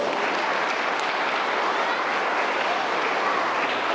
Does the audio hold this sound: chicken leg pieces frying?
no